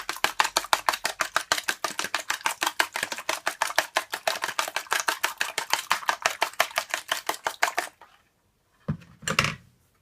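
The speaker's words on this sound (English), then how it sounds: "I'm just gonna beat my egg like so." An egg is beaten in a bowl with rapid, even tapping strokes, a fast steady rhythm of close clicks for several seconds before stopping, followed by a brief clatter.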